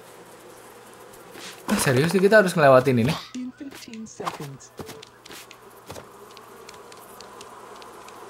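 Bees buzzing in the Nintendo Switch video game The Cub, a loud buzzing swell for over a second that then thins into scattered faint game sounds, with someone talking over it.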